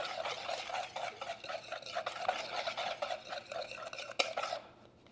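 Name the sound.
whisking protein powder with boiled water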